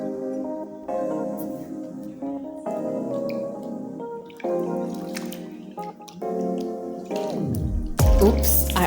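Hot water, then cold, poured into a foot-soaking basin: a close, steady splashing pour broken into several bursts, ending in a heavier gush and a bump.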